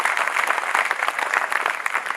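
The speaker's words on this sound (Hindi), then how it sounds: "एक बार तालियों का घनत्व तो बढ़ाइए" Audience applause at a Hindi vir ras poetry recital, dense steady clapping close and fairly loud for a brief stretch, no voices over it.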